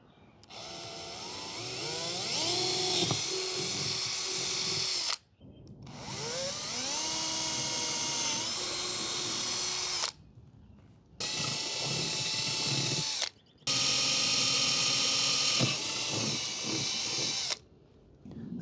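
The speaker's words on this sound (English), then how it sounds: "I'm going to drill a pilot hole first." A power drill boring a pilot hole to mount a saddlebag bracket on a Honda Rebel 1100 motorcycle, running loud and close in four long bursts with brief pauses between, the motor pitch rising and falling.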